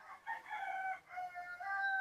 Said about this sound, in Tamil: இந்த கோழி இருக்கு.